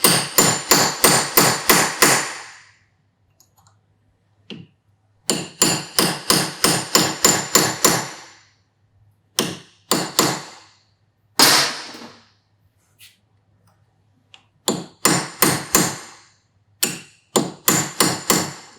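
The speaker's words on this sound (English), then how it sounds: "just a little more chisel work here, I think." A hammer strikes a chisel and punch against a Kawasaki Ninja 400 motorcycle sprocket in sharp metallic blows, fired in fast bursts of about eight with short pauses between, close and loud.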